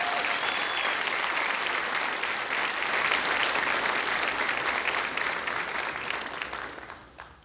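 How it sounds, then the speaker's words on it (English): An audience at a high school senior awards night breaks into sustained applause for scholarship recipients, a broad, dense clapping that holds steady and then tapers off near the end. "Give them a big round of applause."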